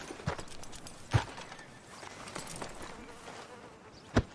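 Horse hooves clip-clop in Red Dead Redemption 2, heard as a few sparse, moderately loud hoof knocks spread over a quiet, insect-like ambient background with no talking.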